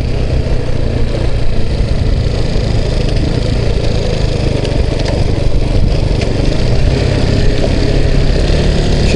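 Honda 200 motorcycle riding along open ground, a loud steady mid-pitched engine drone with rough wind rumble on the microphone, continuous and close for the whole stretch with no talk.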